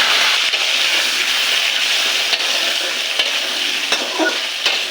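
Cubed potatoes sizzle loudly in hot oil in a karahi with whole cumin seeds and a bay leaf, a dense continuous frying hiss broken by several sharp clicks of a stirring spatula.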